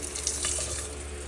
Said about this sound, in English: I just got a gallon of regular water here. I'm gonna pour this in here.